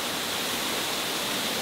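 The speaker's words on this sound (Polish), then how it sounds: "Proszę bardzo, wodospad w Maniawie." The Maniava waterfall in the Ukrainian Carpathians roars as a steady, dense rush of falling water, loud and close, with no other sounds.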